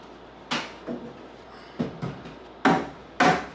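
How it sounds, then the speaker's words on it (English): A hammer strikes wood framing for a drywall arch in six separate thwacks, uneven in spacing and loudness, the last two heaviest, against a quiet room with no talk. "I hope you liked all that hammering, because I sure gave it a few thwacks"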